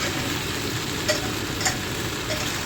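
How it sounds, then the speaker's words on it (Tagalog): Eggplant frying in a pan gives a steady, close sizzle, with a couple of faint scraping strokes as it is stirred gently. "Kaya dahan-dahan lang paghalo."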